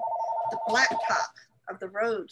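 A household telephone rings with a steady electronic tone for about a second, heard under a man's conversational speech, then gives way to more talking.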